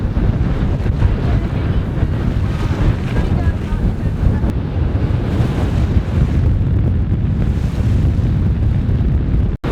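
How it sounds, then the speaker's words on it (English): A sailing yacht heading out of Riposto Marina in Sicily into choppy wind-against-tide waves, with strong wind buffeting the microphone and a steady rush of water and hull noise throughout. "With the wind against tide out there, we're getting some really choppy waves."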